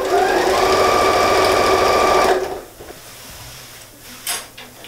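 A sewing machine runs in a steady fast whir, stitching the sides of a bathroom rug made from a patchwork kit. It stops partway through, and a few soft handling clicks and rustles follow.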